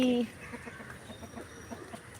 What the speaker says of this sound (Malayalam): കോഴിയെല്ലാം ഇപ്പുറത്ത് പുല്ല് കഴിക്കാൻ വന്നിന് കരിങ്കോഴി